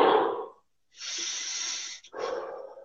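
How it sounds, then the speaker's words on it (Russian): Deep, forceful breaths during a psychological counselling session: one heavy exhale, a pause, then a long sustained breath with a brief catch and another audible exhale, close and fairly loud, with no talking. "Дыши, дыши глубже."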